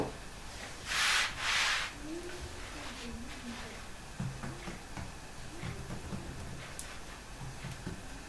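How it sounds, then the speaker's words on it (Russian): Dough for Chechen chepalgash flatbread being rolled thin with a rolling pin, heard as two short, soft rubbing swishes close by, followed by quiet handling noises and faint background talk. "Я немножечко вот так вот скалкой раскатаю."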